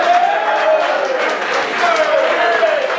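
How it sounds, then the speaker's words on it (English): Crowd at a Buffalo Wild Wings restaurant clapping and cheering for a football coach, a steady wash of applause with voices mixed in. "Give him a round of applause, everybody."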